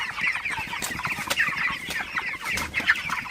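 Broiler chickens on a poultry farm cluck and chirp steadily throughout, a dense, continuous flock chorus with many overlapping calls at close range and no speech.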